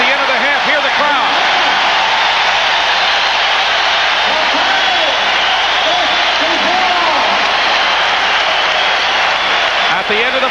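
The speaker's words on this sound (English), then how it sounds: "Hear the crowd." A basketball arena crowd at the Spectrum in Philadelphia roars and cheers continuously at the end of the first half of a 1982 Sixers–Lakers playoff game, with loud, dense, sustained noise from the stands.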